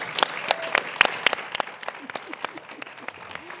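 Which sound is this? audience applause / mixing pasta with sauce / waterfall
audience applause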